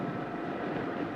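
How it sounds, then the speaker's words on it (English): A steady, dense rumble of an approaching train in a 1971 Western film, continuous and fairly loud with no speech over it. "That train will be here any minute"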